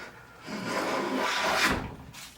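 A tuned Jorgensen 60 1/2 block plane takes a single shaving off wood, one close, smooth rasping stroke about two seconds long.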